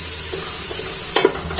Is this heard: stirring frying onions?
yes